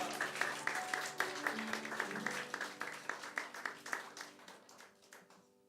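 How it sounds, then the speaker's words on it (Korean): A church congregation claps together during a worship service, steady rhythmic applause that fades and thins out toward the end, moderately distant. "우리 하나님께 영광의 박수 올려드리겠습니다."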